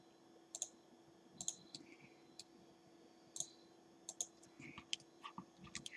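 Sparse, crisp mouse clicks at a computer while modeling in Blender, close and quiet, arriving singly or in quick pairs at irregular intervals over a faint steady hum, with no talking.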